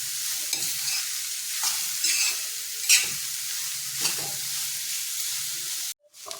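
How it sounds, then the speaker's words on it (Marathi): Jackfruit bhaji stir-fried in a pan over low heat, soft steady sizzling with repeated scraping strokes of a spatula, ending in a brief silence and a clatter. "आणि आता परतून घेऊया. गॅस मंद ठेवायचा आहे"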